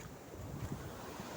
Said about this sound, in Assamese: এইফালে জাহাজ গৈ আছে মাছ মৰা জাহাজ